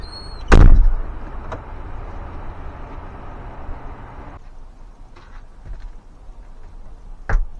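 A misaligned uPVC door is swung and shut, a loud close thump early on, then low handling noise and a softer knock near the end.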